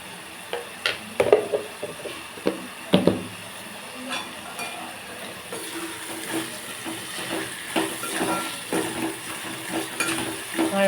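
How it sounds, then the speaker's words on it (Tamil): Dried fish gravy with chili and turmeric powder being stirred in a pan, with irregular scraping and knocks from the utensil over a soft sizzle, close and moderate in level. "மிளகாத்தூள் மஞ்சத்தூள்லாம் பச்சை வாசம் போகிற வரைக்கும் கொஞ்சம் நேரம் மிக்ஸ் பண்ணிக்கலாங்க"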